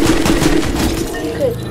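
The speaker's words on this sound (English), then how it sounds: "shotgun there." Gunfire in the Fortnite video game, with a few quick shotgun blasts in rapid succession, loud and close within the game mix.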